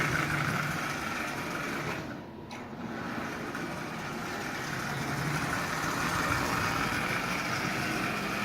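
A Marx 490 toy locomotive with a double reduction motor runs on a rail, a steady close mechanical whir that holds throughout, dipping only briefly near the middle.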